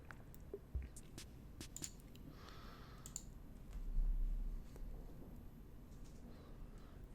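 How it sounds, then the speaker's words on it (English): Faint computer mouse clicks at a desk: a few sharp, isolated clicks spread out over a quiet room tone, with a brief soft rustle midway. "I click on that"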